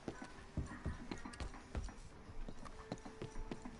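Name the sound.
horse hooves clip-clopping, Red Dead Redemption 2 video game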